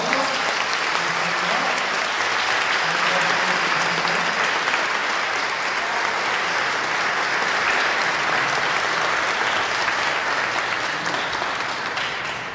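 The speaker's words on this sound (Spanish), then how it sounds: "Un fuerte aplauso." A church congregation at a Sunday Easter-season Mass breaks into loud, sustained applause, a dense, even roar of many hands clapping that holds for over twelve seconds with faint crowd murmur beneath.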